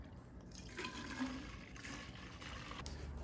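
Half a liter of water is poured into a container to start a diluted acid bath for cleaning and zinc plating hardware from a 1972 Triumph GT6, giving a soft, steady trickle and splash at moderate distance.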